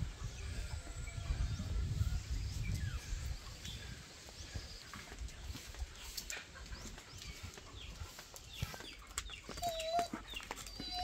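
Chickens, chicks and other farm fowl clucking and rustling on a farm where ducks, turkeys and goats are also kept, with intermittent soft calls and wing flaps over a low outdoor rumble, no talking.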